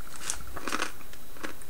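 Someone bites into crunchy seasoned snack noodles with a sweet seasoning, making a few crisp, close crunches and crackles spread over under two seconds.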